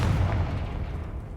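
Confringo blasting spell from Hogwarts Legacy goes off as a single deep, rumbling boom that fades slowly over a second, loud and close with no voices.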